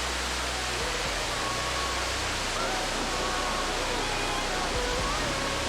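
Veliki Slap, the tallest waterfall at Plitvice, Croatia, sends up a steady, dense roar of falling water that stays broad and constant throughout, with no voices over it.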